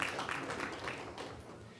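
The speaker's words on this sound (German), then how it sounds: "Ja, da kann man klatschen, finde ich." An audience at a party district chairs' conference claps together in a steady, moderately distant patter that runs without pause and fades slightly toward the end, with no talk over it.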